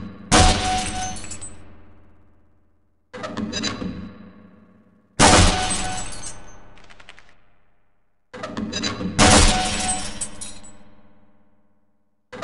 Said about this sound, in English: Certain targets will break only when hit by grenades